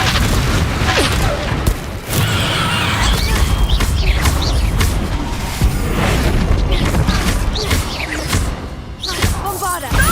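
Confringo blasting spells explode repeatedly during Hogwarts Legacy combat, producing loud, close booms and thuds one after another amid busy game effects and shouted voices.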